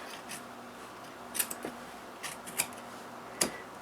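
Scissors snip through quilted fabric along a sewn seam of a pair of pants, a handful of short, crisp cuts spaced irregularly over a quiet room background.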